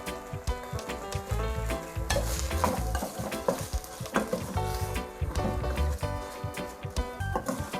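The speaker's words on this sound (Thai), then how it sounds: "ก็ผัด กับพริกแกงค่ะ นี้เราก็เร่งไฟขึ้นเลยค่ะ" Thai curry paste with pork belly stir-fried over high heat: a busy, loud sizzle with constant spatula scraping and clatter against the pan, mixed with music throughout.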